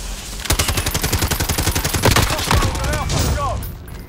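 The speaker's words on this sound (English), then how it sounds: "Oh, someone just got sniped." Rapid automatic gunfire in Call of Duty Modern Warfare multiplayer, a fast steady burst of loud close shots lasting a few seconds, followed by fainter in-game effects and brief voice chatter.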